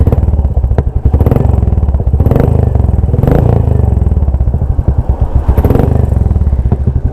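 A Royal Enfield Classic 350 motorcycle engine fires up and settles into a loud, close, lumpy idle with rapid rhythmic thumping and occasional blips of revving.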